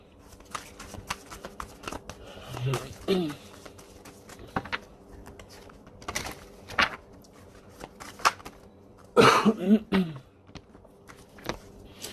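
Tarot cards being shuffled by hand at a table, soft riffling and flicking in irregular bursts, close and fairly quiet, with faint breaths or vocal sounds in between.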